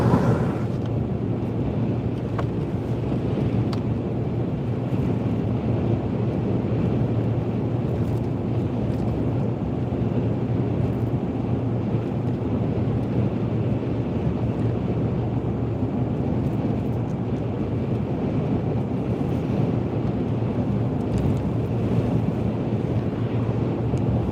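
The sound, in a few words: wind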